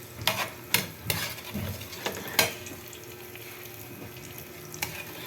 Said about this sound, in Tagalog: igigisa lang natin yung butter. At isusunod natin ang bawang.